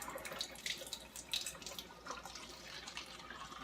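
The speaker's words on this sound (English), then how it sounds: "Coming directly out of my faucet, running through this machine." Water runs steadily from a kitchen faucet through a Kangen alkaline water ionizer machine, a continuous close splashing flow with a few small bright spatters, and no talking.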